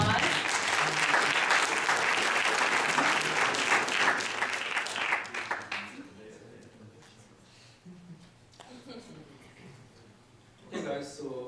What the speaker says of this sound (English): I think everybody deserves another big round of applause.